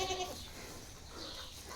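Goats on a farm where kids have just been born, a bleat or two near the start and then a low, steady barnyard murmur for the rest of the short moment.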